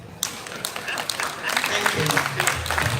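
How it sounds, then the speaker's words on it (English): An audience at an Igbo arts, language and culture festival breaks into applause, a burst of scattered close claps that thickens into steady clapping, with voices mixed in. "Please clap for me."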